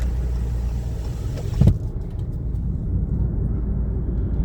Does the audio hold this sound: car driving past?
yes